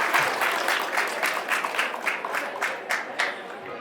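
Audience applause welcoming students of Doon Defence Academy at an EME Corps anniversary celebration, a crowd clapping steadily and fairly close, with rhythmic peaks that fade slightly toward the end.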